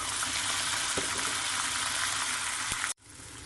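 Garlic ginger paste sizzles and fries in hot oil on a stove at medium-high heat for a biryani, a steady loud crackling hiss that cuts off abruptly near the end.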